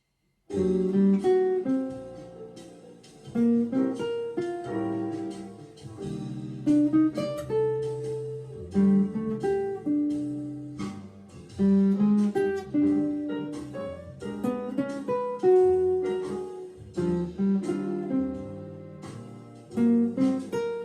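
Clean electric jazz guitar playing melodic scale motifs over chords, steady moderate tempo, continuous and close, no talking.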